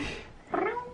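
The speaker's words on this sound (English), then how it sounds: "That's a kitty." A cat meows once, close and fairly loud, following a quieter stretch of room noise at the start.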